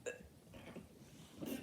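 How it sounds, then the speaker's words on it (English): A burp after chugging a drink, faint and close, with a short low rumble at the start and a louder, rougher belch near the end. "times when I burped drinking a drink."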